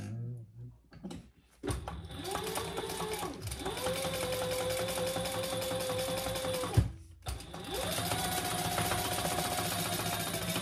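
A sewing machine top-stitching a waist pack, heard close in two long, steady motor runs with a brief pause between them. Its whirring pitch rises at the start of each run, and nobody talks.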